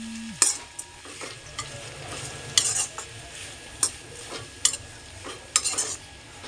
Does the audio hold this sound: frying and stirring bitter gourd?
yes